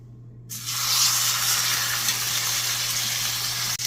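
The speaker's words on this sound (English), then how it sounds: "once your cast iron pan is nice and hot, you want to just go in with your ribeye" A ribeye steak hits a hot cast iron pan after a brief moment of silence and sets off a loud, steady hissing sizzle that continues without a break.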